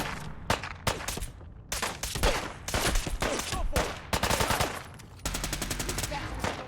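Loud automatic gunfire during a battle in the video game Fallout 4, with rapid bursts and sustained machine-gun fusillades that have only short breaks between them, while voices shout faintly underneath.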